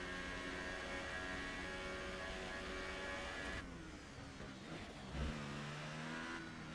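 A race car engine in an Italian Grand Prix racing video game holds a high, steady whine while coming downhill, then lifts and changes tone as it brakes and downshifts, close and alone.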